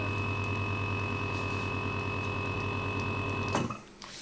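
A la.va V.300 vacuum sealer pumps air from a bag with a loud, steady, close motor drone, then cuts off abruptly with a click as it seals, leaving quiet.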